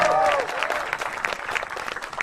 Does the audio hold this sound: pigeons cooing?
no